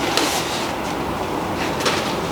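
Ubiquiti UDM SE router being slid out of its protective packaging, a steady close scraping of cardboard and foam with a couple of brief rustling swells, no talking.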